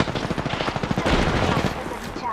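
Rapid gunfire from a battle in Apex Legends, dense overlapping bursts of shots crackling continuously over about two seconds, loud and close, with players talking over the shooting.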